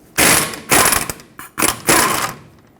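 A ratchet wrench loosens 21mm caliper bracket bolts on a 2011-2016 Ford F-350 front brake, giving four loud bursts of rapid clicking close to the microphone with short pauses between them.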